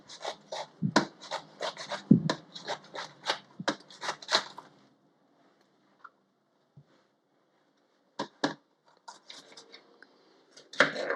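Freshly washed cabbage is sliced finely with a knife: quick, rhythmic, close-up cuts in runs, a pause of scattered light taps, then chopping resumes. No one speaks.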